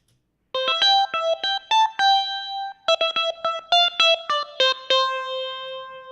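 An electric guitar on a clean American Phase amp setting plays a quick run of bright plucked notes with a swirling phased shimmer, ringing clearly and alone after a brief silence.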